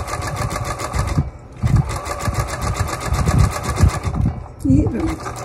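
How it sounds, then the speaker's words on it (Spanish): A sewing machine runs a zigzag stitch across a patchwork piece, its rapid mechanical chatter coming in steady bursts with brief pauses, and someone speaks in Spanish over the sewing. "Le remato."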